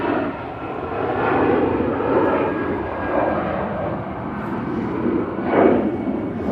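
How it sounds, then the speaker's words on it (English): An EasyJet airliner departing Manchester Airport for Malaga, a broad, steady engine roar with gentle surges in loudness, rumbling on throughout. "EasyJet there to Malaga"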